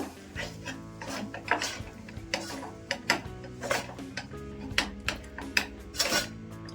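Jowar flour and sago dough are mixed in a pot with the stove off, making repeated scraping and knocking strokes in an uneven rhythm over a faint steady hum.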